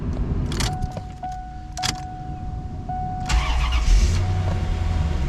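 A C4 Corvette engine cranks and fires up after a fuel filter replacement, with a few short whirring cranking bursts before the engine catches and settles into a steady idle close by.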